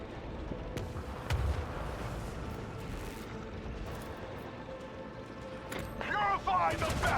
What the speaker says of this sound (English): Breach in our enemy's defenses! Fire the last batteries.